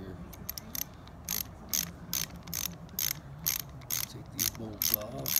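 A ratchet fitted with a 7mm socket clicks in quick rhythmic bursts while removing bolts from a Murray lawnmower with a Briggs & Stratton 450E 125cc engine, close up, with brief talk near the end.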